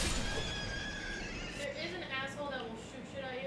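A horse in Elden Ring lets out a drawn-out whinny and snorts, partly under people talking and game background sound.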